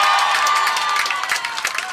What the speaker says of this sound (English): let's get a cheer for Ellen Anderson